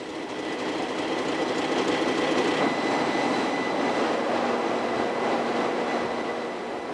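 Diesel-electric main propulsion machinery runs in the engine room of the liner QE2, a loud, steady mechanical roar with a dense rattling texture that continues without change, and no voices over it.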